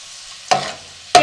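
Finely chopped onions are dropped into hot ghee, two sharp bursts of sizzling frying, each flaring up loudly then settling, close and clear with no talking.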